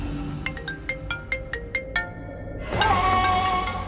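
A phone ringtone plays a quick repeating electronic chime, about eight evenly spaced beeps, then shifts into a brighter tonal melody, moderately loud and close with no talk over it.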